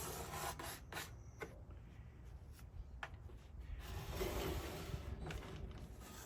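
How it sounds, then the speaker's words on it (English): A small hand scraper rasps across the flamed maple back of a 7-string guitar, clearing away glue squeeze-out around the braces, in close, quiet, repeated scraping strokes with no talk. "I'm gonna clean up some of the glue squeeze out here"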